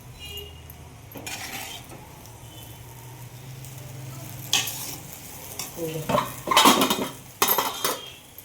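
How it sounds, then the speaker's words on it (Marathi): A spoon stirring potato chutney in a pan, with soft scraping at first, then clinking metal strokes and faint sizzling that grow louder and more frequent toward the end. "पूर्ण व्यवस्थित हलवून घ्यायची चटणी"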